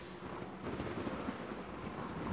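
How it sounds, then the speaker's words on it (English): A thunderstorm in the horror video game Identity V, with a faint, low rumble of thunder and rain noise washing steadily through the background, distant and without speech. "Of course we gotta have that thunderstorm"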